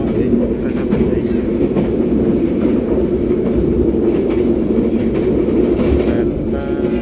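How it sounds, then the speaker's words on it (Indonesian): The KA Sawunggalih passenger train, out of Cirebon on the Kutoarjo–Jakarta run, rumbles along the rails, heard from inside the carriage as a loud steady roar with faint rhythmic clatter and occasional brief voices. "sekarang kita sudah berangkat Cirebon dan masih berada di kereta api Saung"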